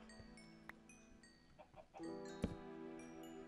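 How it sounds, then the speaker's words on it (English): Chicken clucking in a Minecraft-style mining game world, a few faint, brief clucks among quiet background sounds. "I hear a chicken."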